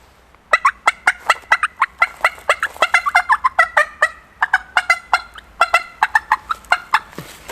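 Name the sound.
turkey call imitating hen turkey cutting, done unrealistically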